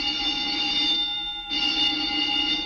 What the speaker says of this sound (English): The old woman must have turned in an alarm.